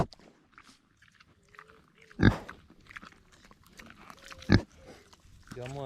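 A pig grunts and chews up close, with two sharp loud thumps or bites standing out amid soft rustling and quiet snuffling; people talk lightly in the background.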